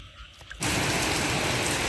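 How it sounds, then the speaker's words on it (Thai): Heavy rain starts abruptly and pours steadily at night, a dense close hiss of drops on surfaces after a quieter opening moment. "ฝนตกแล้วครับ"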